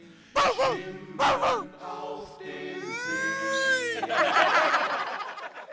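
A person imitates a dog with two sharp barks, followed by drawn-out howling, whining yelps, loud and close, alone without talk.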